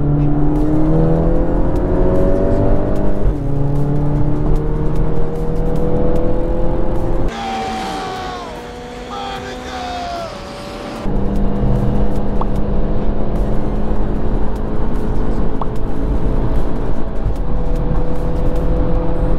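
Lexus IS F car engine running hard, a loud sustained roar with rising and falling revs through gear changes and a brief muffled lull in the middle, close up with no talking.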